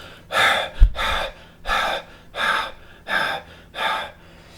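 Six slow, even breaths in a steady rhythm while cycling, each a loud airy huff through the mouth, close up with brief quiet gaps between.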